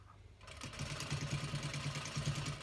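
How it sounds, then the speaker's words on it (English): A sewing machine stitching a fabric face mask starts up after a short quiet moment, then runs steadily with a rapid, even mechanical needle chatter, close and fairly loud, with no talking. "And you can stitch on the wrong side or the good side."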